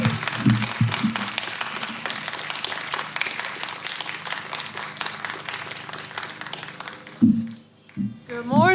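A children's book festival audience gives an author a warm, dense round of applause that holds steady for several seconds, then fades as a voice begins speaking.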